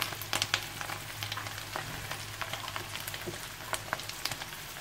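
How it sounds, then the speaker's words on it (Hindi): Green chillies frying in a pan on a normal gas flame for beef pulao, a steady soft sizzle with scattered small pops and spits, close and fairly quiet. "बस इसको अच्छे से हम लोग अभी फ्राई होने देंगे।"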